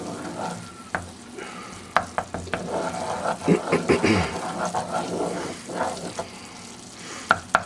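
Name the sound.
stirring with butter in a saucepan using a wooden spoon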